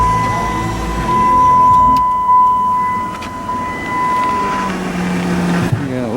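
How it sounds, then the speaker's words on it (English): A Dodge Caravan engine starts and runs with a steady low rumble and a power steering whine, shifting and revving near the end, with some voices talking over it. "So I'm gonna go ahead and start it up"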